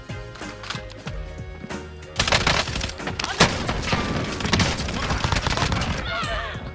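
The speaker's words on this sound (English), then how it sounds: "Taking fire." Rapid gunfire rattles through a Call of Duty match on Rebirth Island, with dense bursts and single cracks from an FFAR 1 and SP-R 208. The shooting grows louder and busier partway through, and a voice talks underneath.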